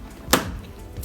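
A plastic clip lock on the back panel of a TCL LED TV snaps open with a single sharp click, followed by a fainter tick a moment later.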